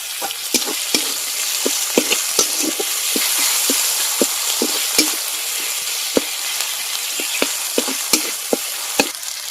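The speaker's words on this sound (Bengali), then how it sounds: "কুচিয়ে রাখা টমেটোটা দিয়ে দেব।" Chopped tomato sizzles in hot oil in a pan for a fish curry, a steady frying hiss broken by repeated sharp clicks of a spoon stirring against the metal.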